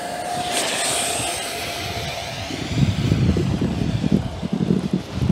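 Eachine F-18 50mm EDF radio-controlled jet at full throttle on a grassy field, a rising whining ducted-fan roar that swells loud and close, then turns gusty and rumbling with wind buffeting the microphone.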